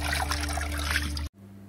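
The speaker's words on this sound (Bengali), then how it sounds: "আমার বোন কিন্তু সেগুলো আবার সাথে সাথে ধুয়ে নিচ্ছে" Water runs steadily from a tap while bowls are washed, a close, continuous trickle that stops abruptly, leaving a low hum behind.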